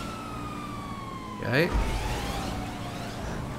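Police car siren in GTA 5 Online, a short sweeping wail that rises briefly mid-clip over steady game engine and traffic noise, with a voice speaking briefly.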